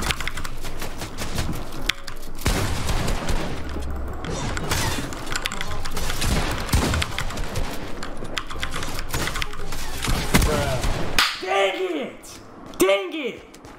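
Rapid gunfire from the video game Fortnite, dense crackling bursts of shots over several seconds, then a few sharper isolated blasts near the end, with a voice talking over it.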